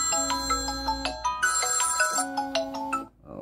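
An incoming Bluetooth call rings on a Series 7 smartwatch as a loud, close electronic ringtone. A repeating melodic pattern of tones plays twice and then cuts off abruptly.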